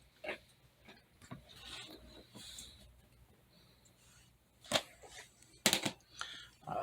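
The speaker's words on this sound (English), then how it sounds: "It's the dog gotta drag his food in here to eat for some reason." A dog drags its food bowl across the floor, producing scattered soft scrapes and then two sharper, louder clattering bursts near the end, close by in a quiet room.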